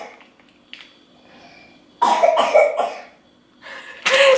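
A person coughs in a basement, a couple of faint coughs at first, then a loud burst of several harsh coughs and another sharp cough at the end, close to the microphone.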